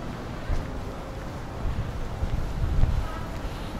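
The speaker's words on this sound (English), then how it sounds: "A little windy." Wind gusting outdoors on a waterfront near a ferry landing, a low rumbling buffet against the microphone that swells and fades in soft gusts.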